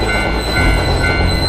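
A train passes close by in a loud, steady rumble with faint high wheel squeal running through it, filling the short moment with no voices.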